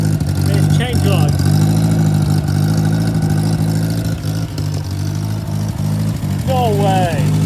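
A 1950s Fawton Ford tow motor with chain drives, running after more than 30 years idle, a steady, loud, throbbing idle with slight revs, while people talk over it.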